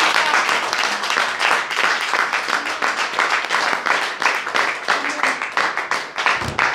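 A church congregation applauding steadily and loudly, with dense, continuous clapping and voices mixed in throughout.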